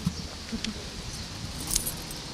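Keys jangle in a metallic jingle during a military unit's metal detector demonstration, with a sharper cluster of clinks near the end over a low background hum.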